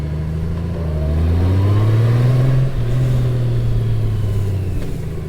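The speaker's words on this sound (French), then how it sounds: "Le son du moteur est vraiment pas mal." A Honda Goldwing six-cylinder motorcycle engine hums steadily at cruising speed, a smooth low drone with gentle rises in pitch, close and continuous without talk.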